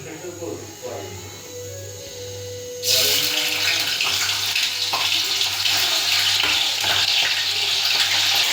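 Paneer cubes fry in hot oil in a cooking pot for palak paneer, a dense hissing sizzle bursting in after a quiet, humming start and staying loud and steady to the end.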